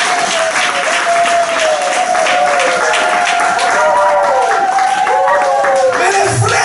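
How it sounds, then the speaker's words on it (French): A church congregation breaks into loud, sustained applause and cheering that fills the hall, with voices calling out and a held musical tone running underneath. "Acclamons pour les saints."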